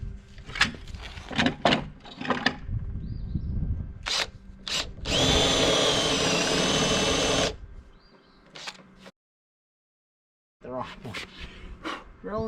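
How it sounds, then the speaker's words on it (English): A power drill bores a hole in a timber garage sill, one sustained loud whine lasting a couple of seconds, close up, with shorter bursts, knocks and handling noise around it and a pause of silence afterward. "Drilling the wrong hole here."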